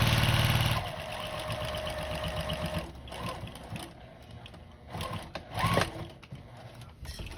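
A sewing machine stitches fabric for a bowl cozy, a loud fast whirring run at first, then slower bursts of stitching with clicks and handling noises, close up, with no talk.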